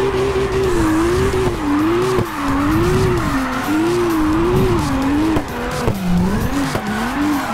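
Video-game car drifting in CarX Drift Racing, a steady engine drone with a long wavering tire squeal rising and falling through repeated slides, loud and continuous, with no talking.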